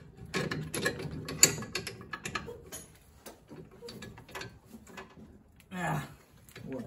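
A bolt is fed through an electric motor mount during a 1984 Volkswagen Rabbit EV conversion, producing close metallic clicks, taps and scraping in short irregular bursts, with a brief scrape near the end.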